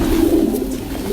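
A pigeon in its original colouring coos close by, a low, steady, throaty murmur that continues alone, with no other sounds around it.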